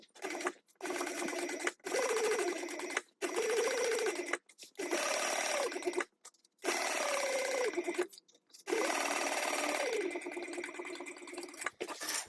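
A sewing machine top stitches fabric inside a narrow tube for a plush mouse, running in a series of steady, moderately quiet bursts with short pauses between them.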